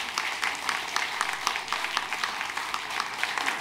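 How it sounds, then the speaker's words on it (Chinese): Applause from a congregation at a Taiwanese-language church service: steady, moderately loud clapping from many hands with a fairly even rhythm throughout, and no voices over it. "搁一摆，用热烈的掌声"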